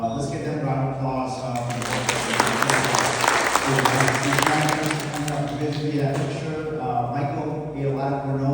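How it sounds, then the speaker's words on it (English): Applause from a conference audience, a dense and steady wash of clapping that lasts about eight seconds, with voices and a sustained tonal hum mixed in beneath it. "Let's give them a round of applause."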